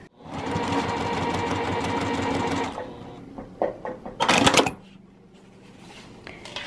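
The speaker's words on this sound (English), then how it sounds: "I'm gonna take this over to my sewing machine now and I'm gonna sew a quarter of an inch down this seam" A home sewing machine stitching a quarter-inch seam on a zippered notions pouch runs in a fast, steady close whir for a few seconds, then stops, followed by clicks and handling of fabric.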